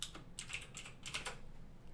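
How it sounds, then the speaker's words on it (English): Quick, light keystrokes tap on a computer keyboard in short irregular bursts, close and fairly quiet, with no voices. "Just click anywhere and start typing your text."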